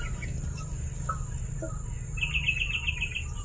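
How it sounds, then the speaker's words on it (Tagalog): Birds chirp in quick repeated high notes, a short trill of bright tweets standing out over steady low background noise. "Grabe yung mga ibon na yan."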